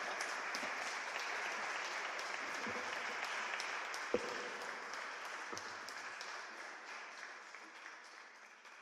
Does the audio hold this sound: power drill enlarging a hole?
no